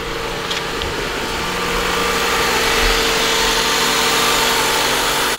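A 5.9 Cummins diesel engine in a Dodge 3500 idles steadily at close range, a loud, constant rumbling drone with a whiny overtone and no speech.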